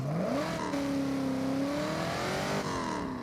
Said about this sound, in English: Let me hear that engine.